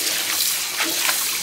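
Cut greens being washed by hand in water, with a loud continuous rushing and sloshing, like a running tap or water swirling in a sink, and small splashy surges throughout.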